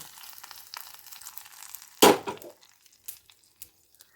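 Fried mustard seeds hit a pot of spinach and green mango curry with a sudden loud sizzle that fades over half a second. Faint stirring clicks and small spits follow.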